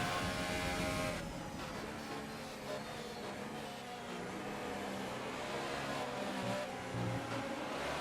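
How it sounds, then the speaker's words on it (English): Formula One cars at a rolling race restart during the Canadian Grand Prix, a dense engine howl that begins loud, eases slightly and keeps surging with overlapping high revving tones, no talk. "the race is about to restart from a rolling start"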